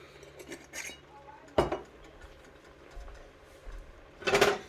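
Spoon stirring a curried chicken mixture in a pot, giving a few scraping, clinking strokes with louder bursts near the start and end, no voices.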